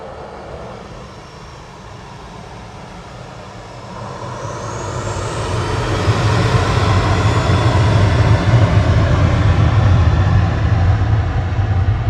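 Ryanair jet aircraft at Manchester Airport, a loud engine roar swelling steadily as the plane nears, turning into a powerful sustained rumble without talking.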